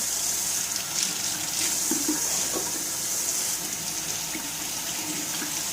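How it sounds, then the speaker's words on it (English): Warm water runs steadily from a kitchen sink tap during cleanup after juicing, a continuous close hiss of flowing water with faint splashing underneath and no talking. "So I'm going to get some warm water running"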